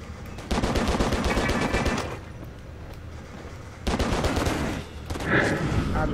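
Gunfire in the action video game Stranglehold: long bursts of rapid automatic shots in two loud stretches, with a quieter gap of game noise between them.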